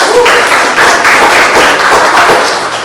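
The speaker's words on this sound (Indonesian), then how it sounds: "tepuk tangan buat Sawa" A university classroom applauds a student in a dense, steady burst of many hands clapping close by, sustained at an even level for about three seconds with no talk.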